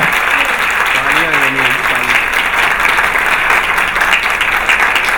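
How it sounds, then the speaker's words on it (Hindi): Steady, dense audience applause welcoming a guest on stage at the opening of a beautician venue, loud and continuous throughout, with a few voices rising briefly over the clapping. "मैं चाहूंगा तालियों की गूंज बजती रहे"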